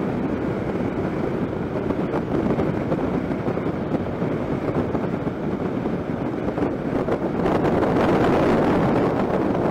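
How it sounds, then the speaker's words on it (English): Strong wind roars and buffets a helmet-mounted microphone on a New Year's Day run over Snake Pass, a dense, continuous rumble that swells louder toward the end, with no voices. "A little bit of protection from that wind."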